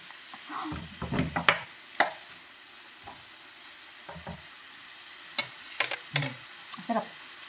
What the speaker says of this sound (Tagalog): lagyan natin ng at least 20 minutes siyang igigisa para maluto talaga siya